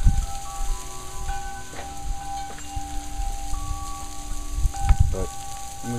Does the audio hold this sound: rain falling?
yes